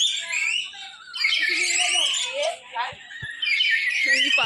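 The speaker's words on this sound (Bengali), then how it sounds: "পাখিগুলো ডাকছে, শুনতে পাচ্ছ আওয়াজ" Macaws and other birds in an eco park give loud, shrill, repeated calls and squawks, overlapping in bursts across the whole stretch with a couple of brief knocks near the end.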